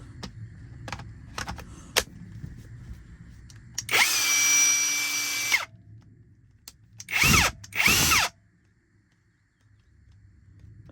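Bauer electric impact wrench, freshly re-greased, whirs in one steady burst of about two seconds, then gives two short quick triggers, with a few light clicks and handling knocks before.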